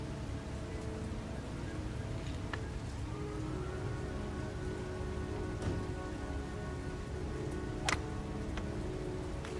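Heavy rain falls in the video game Heavy Rain as a soft, steady hiss with faint scattered ticks, quiet and continuous throughout.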